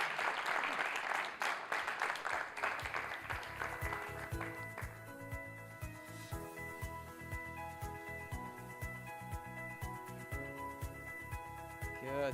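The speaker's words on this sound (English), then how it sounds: "The applause is yours." Applause breaks out from an audience at a building renovation business conference, dense clapping at first that thins out into scattered claps over a sustained musical tone, fading while a few hands keep tapping.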